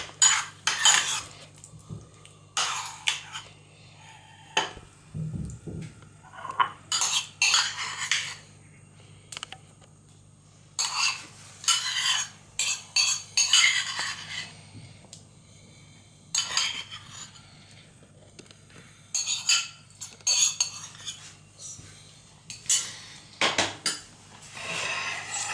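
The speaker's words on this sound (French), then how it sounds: "Là, on va mélanger." Utensil mixing strawberry compote or mint whipped ganache in a bowl, heard as repeated bursts of clinking and scraping against the bowl, separated by short pauses, close and fairly quiet with no talking.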